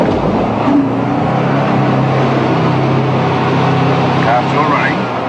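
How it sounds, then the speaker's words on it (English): A Subaru 4WD engine keeps running while wading through deep water over rocks, a steady low droning hum with faint rising tones, close and continuous for the whole stretch, with some voice-like sound mixed in. "Car's still running."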